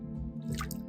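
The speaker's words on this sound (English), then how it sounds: "Remove from the water and drain completely." Rinsed garlic being drained, with a short wet drip and squishy trickle of water close by over a low steady hum, lasting only a moment.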